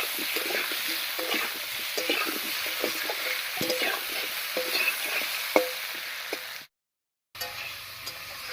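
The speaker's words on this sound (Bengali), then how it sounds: "এবার আলুটাকে একটু ভাজা ভাজা মতো করে নেবে" Potato pieces seasoned with salt and turmeric fry in a pan, a continuous close sizzle broken by repeated scraping and stirring strokes, then a short dropout of silence before the frying resumes.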